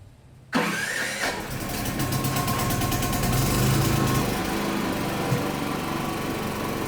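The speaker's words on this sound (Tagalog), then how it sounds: "Dapat mag-trigger na yung generator natin." A Philking PK8000i dual fuel generator starts automatically during a power outage, cranking abruptly after a quiet moment and settling into a loud, steady engine drone close by.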